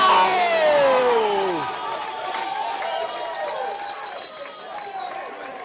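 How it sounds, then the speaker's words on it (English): A football crowd at an Eastern Districts Football League grand final roars and cheers after a goal, loud at first and slowly fading, with whistles and scattered shouts trailing off. "I think the crowd reaction could tell the story."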